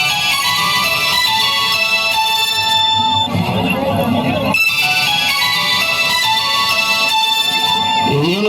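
A loud electronic ringtone melody plays continuously with layered tones, briefly dipping in the middle before resuming, no voices over it.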